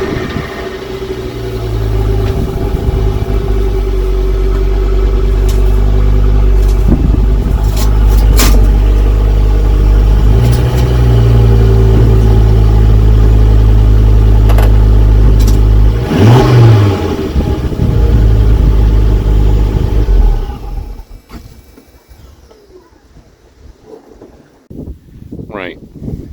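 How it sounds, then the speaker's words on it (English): Ford Focus ST engine revving loudly as the car drives up onto ramps outdoors, a steady low drone with rises in pitch, buffeted by heavy wind noise before dropping away near the end. "let's get the car up on the ramps"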